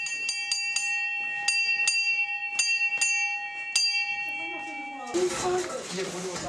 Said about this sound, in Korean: 반가운 점심시간을 알리는 종소리가 울립니다.